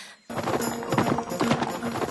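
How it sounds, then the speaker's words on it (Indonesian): Horses being ridden to a busy town in an animated fantasy story: steady, continuous hoof clip-clop over a dense, noisy background, close and prominent throughout. "Kemudian Ars dan Ritz berangkat dengan menggunakan kuda."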